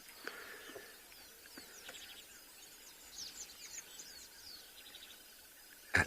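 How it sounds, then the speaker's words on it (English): Several birds at a dawn chorus on safari at Madikwe, including a crimson-breasted shrike, give faint, scattered chirps and whistles over quiet bush ambience, with a louder call at the very end. "At the dawn, the bird chorus."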